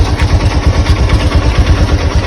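A Honda Activa scooter engine idles nearby with a steady, rapid chugging putter, loud and close, with no voices over it.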